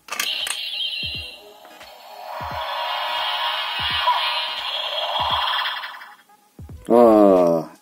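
A bootleg Chinese copy of the Ultraman Tiga Spark Lens transformation toy plays its second electronic sound: a buzzy synthetic fanfare with rhythmic clicks, ending in a short voice-like cry from the toy's speaker.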